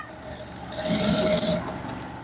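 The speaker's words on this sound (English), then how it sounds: "Top stitch all around this way" A sewing machine top stitches a shirt collar with a close, fast mechanical whir that builds for about a second and then stops abruptly.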